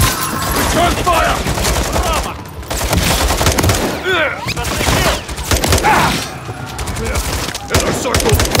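Gunfire in the Call of Duty Modern Warfare III stadium mission, heard as sustained loud bursts of automatic weapons and shots. They carry on almost without a break, with shouted voices mixed in.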